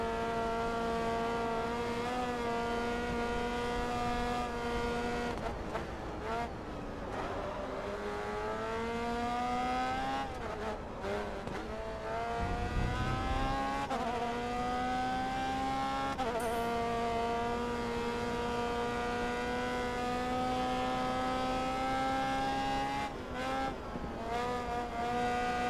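A race car engine in Grid: Autosport whines steadily at high revs, its pitch climbing through gear changes with brief dips at each shift and a short low thud partway through, loud and continuous with no talk.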